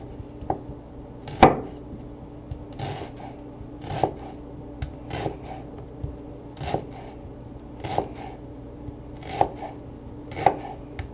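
A knife chops leeks into very small pieces on a cutting board, with sharp, evenly spaced knocks about once a second against a quiet kitchen background.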